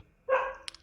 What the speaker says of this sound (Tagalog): pasensya na sa aso